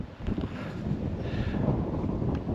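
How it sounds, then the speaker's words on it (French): Strong wind buffets the microphone in a continuous low, rumbling roar, with no other clear sounds, on a hike near Laroque d'Olmes in the Pays d'Olmes, France. "Voilà, il y a beaucoup de vent."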